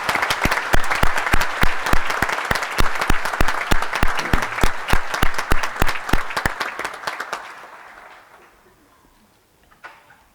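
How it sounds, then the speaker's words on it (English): A graduation hall audience gives a round of applause as performers leave, heavy rhythmic clapping that stays loud for about seven seconds, then fades out, with a brief faint sound near the end. "Let's give them another round of applause as they will now be leaving the hall"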